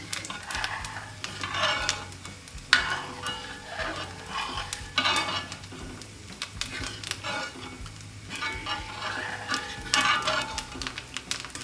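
A spoon stirs banana payasam with coconut in a simmering pot, giving repeated scraping and swishing strokes in an uneven rhythm over a soft bubbling sizzle, close and moderately loud, with no talking.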